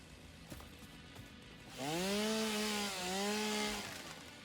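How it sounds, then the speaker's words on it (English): Chainsaw in the video game Satisfactory cutting wood: a steady background hum, then a loud revving buzz that rises in pitch, dips briefly and holds for about two seconds before fading. "Just to power my chainsaw."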